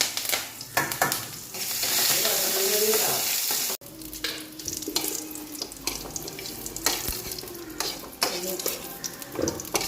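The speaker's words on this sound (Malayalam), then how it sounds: "കടുക് പൊട്ടണുണ്ട് കേട്ടോ" Mustard seeds crackling in hot oil for papaya curry, a loud hissing sizzle at first, then a scatter of sharp pops and spatters with stirring scrapes, close by.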